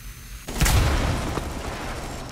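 In Rainbow Six Siege, a wall is breached by an explosive charge, a sudden heavy boom with a rumbling tail and debris.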